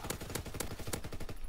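A light machine gun firing in a World War 2 video game, a rapid burst of about ten sharp, evenly spaced shots, close and loud with no talking.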